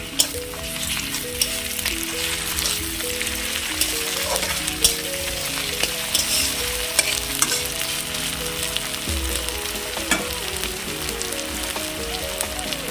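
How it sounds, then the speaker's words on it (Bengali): Ginger garlic paste hits hot oil in a pan for a Bengali egg curry with cauliflower and potato, giving a loud, steady close sizzle and crackle with a few stirring taps throughout. "এর মধ্যে আদা রসুন বাটা দিয়ে দেবো"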